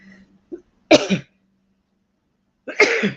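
Two short, sharp coughs a couple of seconds apart, close and fairly loud, with a faint throaty sound before them and quiet in between.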